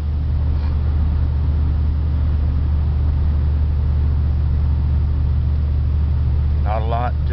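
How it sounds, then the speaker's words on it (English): A wood-powered Dakota truck cruises steadily on a Sunday morning drive, its low engine and road rumble droning continuously, with a brief voice near the end. "We're in the Dakota, just a cruising along."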